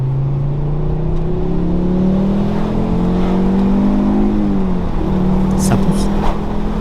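A Ford Focus ST MK2 five-cylinder engine revving loudly and close, a steady droning pitch rising and falling, with someone talking over it.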